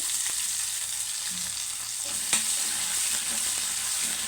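Oil sizzles and crackles steadily in a pan as onions fry, with a few scraping stirs and a sharp clink midway.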